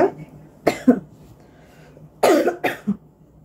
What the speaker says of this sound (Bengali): এত কাশি, খুসখুস খুসখুস গলার মধ্যে সারাক্ষণ করতে থাকে